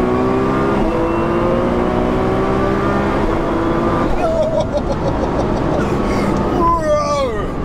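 A 1576bhp Nissan R35 GTR accelerates hard on the street, its engine loud and close with rising harmonic sweeps and a gear-change break, while voices talk over it inside the car.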